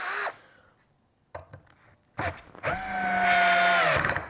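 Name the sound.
Tekiro 12V cordless drill driving long screw, speed 1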